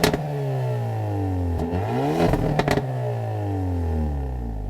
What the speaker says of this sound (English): definitely getting some backfires on that